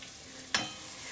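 Chopped leeks cook in a soup pot with a soft, low sizzle and one brief scrape or stir partway through, heard close and quiet with no voices.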